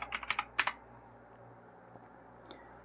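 A short burst of keystrokes on a computer keyboard entering a command, about half a dozen quick, close clicks at the start, then near silence with a couple of faint taps.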